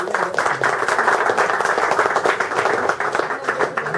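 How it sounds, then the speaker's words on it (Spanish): An audience at a Journalists' Day toast applauds, a dense steady burst of clapping from a room full of people that lasts throughout at moderate loudness. "Quiero terminar con un aplauso para todos ustedes"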